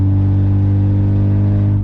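A VW Mk3 Golf engine with a broken exhaust, running loud and steady with a deep droning rumble at close range, no voices.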